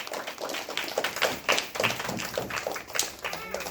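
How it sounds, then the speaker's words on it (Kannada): Loud crowd applause breaks out for a child who won two first prizes and a second prize at an Independence Day prize distribution, a dense, steady patter of many hands clapping throughout. "ಜೋರು ಚಪ್ಪಾಳೆ"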